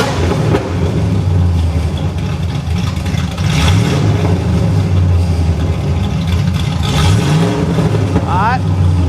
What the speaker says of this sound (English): No, quick, like all the way down. Rev it up.